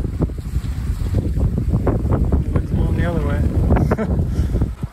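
Strong wind gusting against a tarp at a lakeside campsite on Cork Lake in Algonquin Park, a steady loud roar with buffeting and flapping, heavy wind noise on the microphone, and a voice talking over it.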